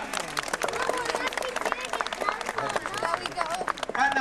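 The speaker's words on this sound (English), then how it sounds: "So let's give Flo a nice round of applause." Audience applause for Flo the sea lion at a Dublin Zoo sea lion show: a dense, steady patter of clapping hands lasting several seconds, with voices heard through it.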